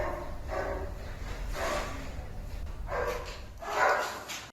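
A pit bull barks four times in spaced bursts, fairly close and loud, over steady low background noise.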